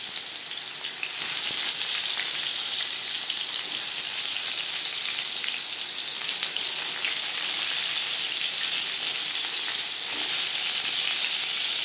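Eggplant slices frying in refined oil over a medium gas flame, a steady, dense sizzle and crackle that holds evenly throughout at close range, with no voices.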